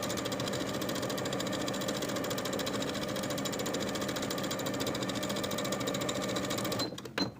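Sewing machine top stitching fabric from the right side with a quarter-inch seam allowance, a fast steady mechanical whir and needle rattle running continuously, then stopping abruptly near the end.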